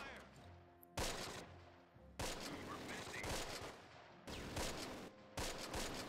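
Infantry combat gunfire from the Close Combat: Wacht Am Rhein strategy game, with bursts of machine-gun and rifle fire in overlapping volleys that start abruptly and rattle on in a dense, sustained fusillade.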